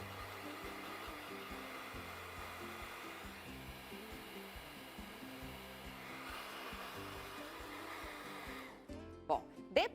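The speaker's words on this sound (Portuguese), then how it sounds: "Aí o secador ajuda bastante." A hair dryer blows steadily over a freshly varnished surface, a constant airy drone held for several seconds before it cuts off into a few close clicks and knocks.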